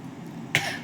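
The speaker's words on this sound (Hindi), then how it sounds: "खांसी आ रही है इस टाइम पे, इग्नोर करिएगा" A single short, sharp cough bursts out near the microphone after a quiet moment, with a brief fading tail.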